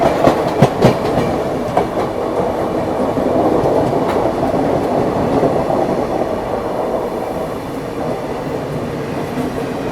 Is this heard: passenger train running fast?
yes